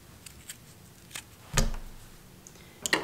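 Scissors snip through knitting yarn to cut the work and leave a tail: one short, crisp close cut stands out in the middle, with a few faint handling clicks around it and no voices.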